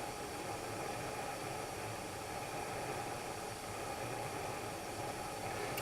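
A DPower camping stove cooking breakfast, a steady broadband hiss of burner flame and sizzling running unbroken and fairly loud throughout, with no voices.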